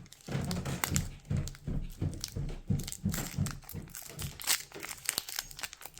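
A Pokémon Go booster pack wrapper is torn open and handled at close range, giving a run of crinkling, crackling plastic rustles in irregular bursts.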